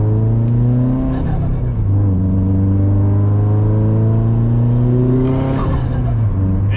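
A loud, close Subaru WRX engine revs repeatedly, its pitch climbing and falling in several sweeping rises with a strong low rumble underneath.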